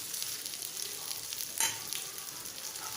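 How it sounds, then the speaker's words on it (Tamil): Coriander seeds dry-roasting in a pan for a village-style fish curry, with a soft steady crackle and sizzle and a brief stirring rustle midway, fairly quiet throughout. "மல்லி போட்டு நல்லா வந்து ஒரு சும்மா லைட்டாக மட்டும் வறுக்கலாம்"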